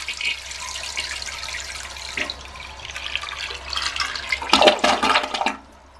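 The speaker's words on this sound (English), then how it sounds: "I think this is a good flush." Bone-colored 1985 Kohler Highline toilet flushing close up: a rushing swirl of water that builds to a strong gurgling surge, then cuts off abruptly into quiet refilling.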